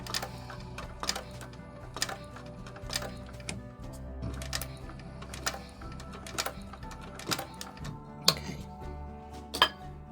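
A sewing machine stitches a quarter-inch handbag seam with a zipper foot, giving a steady low mechanical hum broken by irregular close clicks and clacks over about ten seconds, with no talking.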